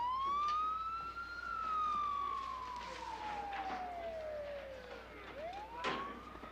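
A police car siren wails in a steady rising and falling sweep, fairly close and prominent, with road traffic noise underneath and no voices.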